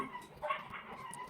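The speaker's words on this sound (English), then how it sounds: "I'm so sorry about my dogs because they're gonna eat lunch right" Pet dogs yip and whimper faintly in the background of a quiet room, a few short, high barks set apart from one another and kept well in the distance.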